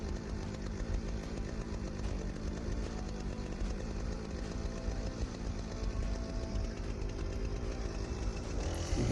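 A big chainsaw cutting tree sprouts growing from an old stump, a loud continuous buzzing engine running steadily without pause throughout.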